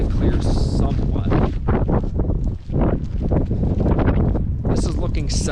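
Strong wind on Mount Washington buffets the microphone in a constant loud roar with gusting surges and a brief lull midway.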